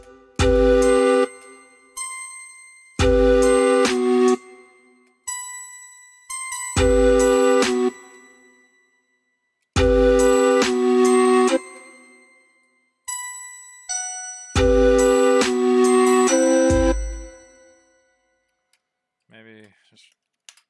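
Fantasia synth bell preset in a beat-making session, bright chiming notes sounding in repeated short phrases with pauses between, loud and clean, a brief soft tail at the end.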